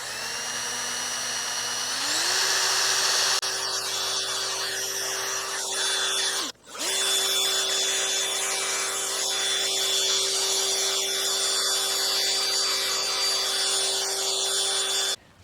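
A small rotary polishing tool buffs the bright trim of a Mercedes W126, a steady high-pitched electric whine that rises in speed after a couple of seconds, briefly cuts out midway, then resumes close and continuous.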